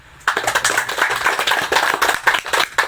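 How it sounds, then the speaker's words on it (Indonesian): Applause breaks out at a weekly church service for boarding-house students, a lively burst of many hands clapping loudly and continuously, rising suddenly out of quiet. "Tepuk tangan dulu."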